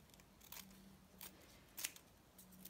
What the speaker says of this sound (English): So I'm just gonna cut that down.